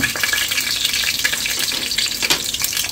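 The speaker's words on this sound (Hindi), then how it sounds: "यहाँ पे मैं चावलों के लिए अनियन बना रही हूँ" Onions fry in hot oil for rice, giving a loud, close, continuous sizzle with crackling bursts and occasional stirring scrapes, no voices.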